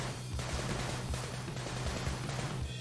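Rapid AK rifle gunfire in the Sunset Overdrive video game, quick bursts of shots repeating under a busy, low-level game soundscape, fairly faint and continuous.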